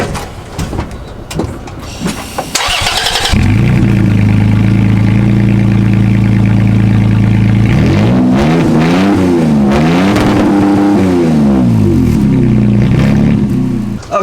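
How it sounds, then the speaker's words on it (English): A loud, rough engine of a 2017 Toyota Tacoma idles through an old rattly exhaust, with a couple of clanks before it starts and a revving swell midway. "Old exhaust."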